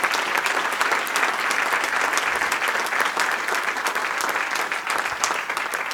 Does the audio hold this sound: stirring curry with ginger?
no